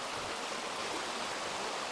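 A mountain river runs through a forest, giving a steady, dense rush of water that stays even and close throughout, with no voices.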